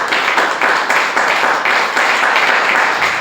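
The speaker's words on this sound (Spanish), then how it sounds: "Démosle palmas al Señor" A church congregation clapping hands in unison, a loud steady rhythmic beat of claps at roughly two per second, sustained throughout with a full roomy wash.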